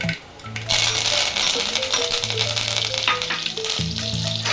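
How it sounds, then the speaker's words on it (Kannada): Curry leaves crackle in hot oil for a quick rasam tempering, bursting into a loud, dense sizzle after a short quieter start, with a rapid spatter of pops and a low hum underneath, close up. "ಈಗ ಕರಿಬೇವಿನ ಸೊಪ್ಪು ಹಾಕೋಣ."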